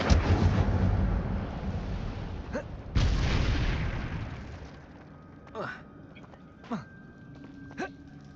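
The Incendio fire spell is cast in Hogwarts Legacy, first as a loud, roaring whoosh that swells again mid-way, then fades into a few short, faint magical bursts, with a voice speaking at times.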